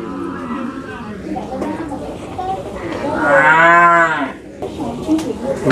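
Cattle at a busy livestock market: a loud, close, drawn-out moo rises in the middle over steady crowd chatter and people talking nearby.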